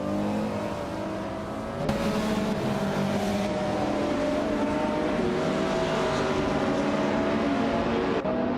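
A 2019 McLaren Speedtail race car engine drones steadily at Automotodrome Grobnik, a loud continuous engine tone with a sharp shift in pitch about two seconds in, like an upshift, before it settles into a sustained roar.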